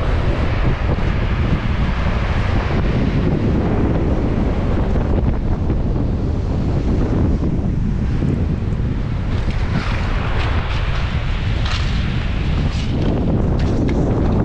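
Strong wind buffeting the microphone on the coast near Dieppe, with rumbling sea waves breaking beneath a loud, constant roar that never lets up.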